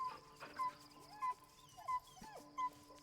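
Scratch, the dog in Baldur's Gate 3, gives four evenly spaced high whimpers, faint and close, over quiet game ambience.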